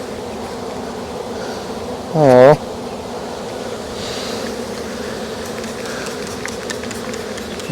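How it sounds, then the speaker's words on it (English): Honey bees from a swarm on hive frames keep up a dense, steady buzz. One bee drones close past the microphone in a loud, rising and falling whine before the hum settles back, and a voice briefly exclaims. "I'm just going to slide the bees out of the way"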